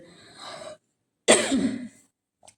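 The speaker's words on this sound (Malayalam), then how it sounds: "അതിനിടെ ചുമയൊക്കെ വരുന്നുണ്ട് കേട്ടോ, കുറച്ച് ചുമ ഉണ്ട് ചെറുതായിട്ടേ" A raspy throat clear, a brief pause, then one harsh, close cough that trails off, followed by a tiny catch of breath.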